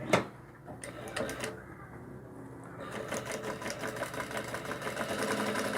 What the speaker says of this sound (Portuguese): eu vou passar uma costura